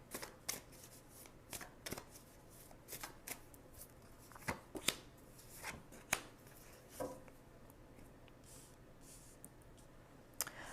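Tarot cards being shuffled by hand in a reading, soft irregular riffles and flicks with scattered sharper snaps, close and quiet over a low background hiss.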